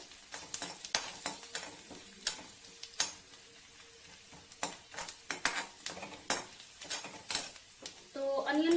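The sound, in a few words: whole garam masala and black cardamom frying in oil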